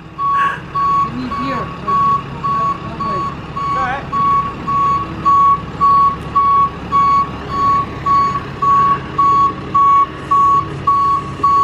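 A tow truck's reversing alarm beeps steadily and loudly in a long, even series as it backs a trailer, with truck engine noise underneath and people talking intermittently over it.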